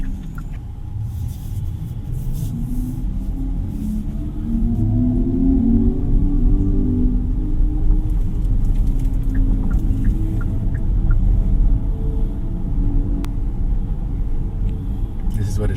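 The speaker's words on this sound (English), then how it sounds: "This is what it feels like driving comfortably in pure EV mode." A Hyundai IONIQ 6 GLS electric car cruising in pure EV mode, heard from inside as a steady low road rumble and tyre hum that swells slightly midway and holds constant, with no engine note.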